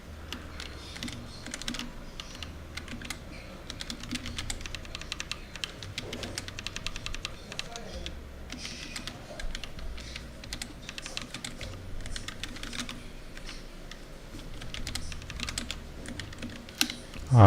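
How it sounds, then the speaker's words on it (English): Touch typing on a computer keyboard during coding practice makes a steady, unbroken clatter of keystrokes close to the mic, with brief variations in pace and no speech. "I'm just practicing touch typing"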